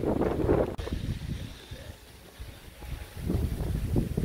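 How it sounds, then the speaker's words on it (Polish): Strong wind buffets outside near a castle and roadside parking, a loud rushing roar that gusts, eases to a softer hiss, then swells again. "ale wieje"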